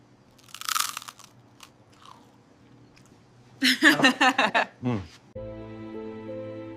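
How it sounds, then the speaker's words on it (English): A bite into the crunchy crust of naturally leavened bread gives a close, brittle crunch early on, followed by a short stretch of speech and then music. "We invite you to take a bite. Feel the crunch, the chew, and the subtle, living flavor of natural leaven."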